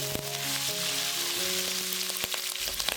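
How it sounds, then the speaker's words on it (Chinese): Beef stir-frying in a wok with ginger slices and scallion, a loud, close, continuous sizzle with a few scraping clanks of the spatula and no voices. "然后倒入牛肉，翻炒1至2分钟。"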